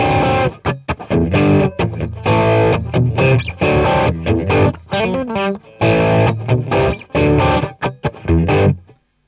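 An electric guitar through a BOSS OD overdrive pedal on a Boss Katana amp plays choppy overdriven chords and riffs in short bursts with gritty, crunchy distortion, loud and close, stopping abruptly at the end.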